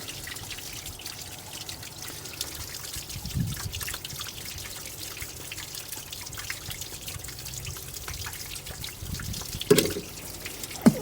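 Rusty coolant water drains from a Citroen C1 radiator, a continuous trickle and dribble of liquid with occasional louder drips, heard close and alone.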